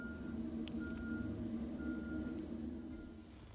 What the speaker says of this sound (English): snow plowing truck. It's just gonna go and plow all the snow in the public parking lot